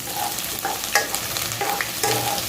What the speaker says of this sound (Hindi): तो ये अदरक को थोड़ा रोस्ट कर लेंगे।